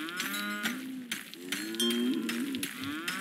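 A cow in an indie game moos in several long, close, wavering calls, with brief clicks and knocks between them.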